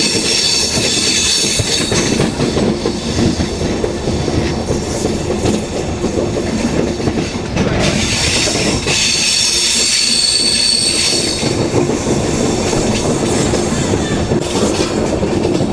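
The Tirupati–Puri Express, running with LHB coaches, rolls along at speed with loud continuous wheel rumble, rhythmic clickety-clack over rail joints and sustained metallic wheel squeal, heard from on board.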